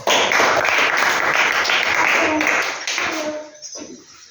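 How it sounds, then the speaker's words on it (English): A small audience claps loudly and evenly for about three seconds, then the clapping thins and fades out as a voice begins near the end. "welcome her to give big claps"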